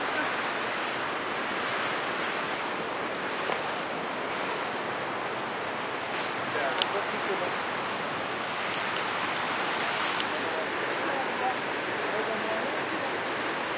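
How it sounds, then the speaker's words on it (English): Broad, steady rushing water roars without pause, a dense wash of noise like a waterfall heard from some distance below a suspension bridge. "There's a waterfall down there."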